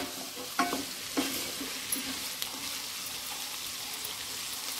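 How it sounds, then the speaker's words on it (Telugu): A potato and egg curry is stirred in a wide pan, with soft sizzling throughout and a few clear scrapes and knocks of the spoon against the pan, quiet and close, with no voices. "ఒకసారి మిక్స్ చేసుకుందాం."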